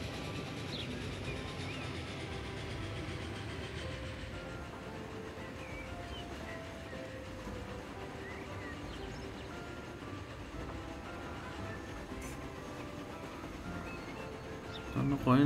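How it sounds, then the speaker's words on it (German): A 1930s Swiss train in Transport Fever 2 rolls slowly into a station, a steady low rumble with faint wheel clatter running under continuous background sound, ending with a brief louder burst. "Rollen wir hier langsam in den Bahnhof ein."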